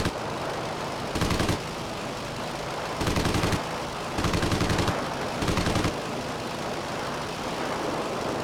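Strafing gunfire from a vehicle in Homebrew Vehicle Sandbox, four loud rapid-fire bursts of roughly half a second to a second each, separated by a steady droning engine hum, close and harsh.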